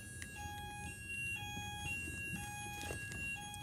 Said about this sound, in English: There's a fire alarm,